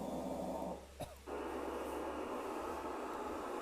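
A steady broadband hiss of test noise plays from a nearby horn speaker, briefly cutting out for a moment before resuming at the same level.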